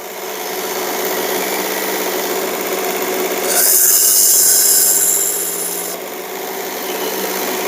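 Knife blade being sharpened on a 240 grit belt grinder, a steady close motor whir with abrasive rasping that brightens into a harsher grinding hiss midway, then settles back.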